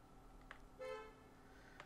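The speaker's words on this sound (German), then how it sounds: "man hat draußen wahrscheinlich jetzt das Hupen gehört." A car horn honks outdoors, heard from inside as one short, faint toot with a couple of soft knocks around it.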